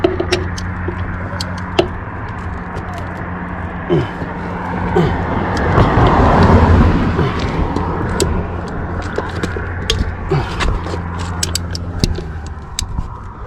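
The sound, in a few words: cars passing by on a road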